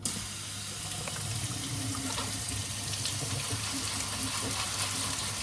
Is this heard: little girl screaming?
no